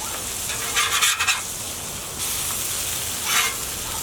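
Thick hamburgers sizzling on a Blackstone griddle just after flipping, a steady close hiss with brief bursts of louder crackle, no talking.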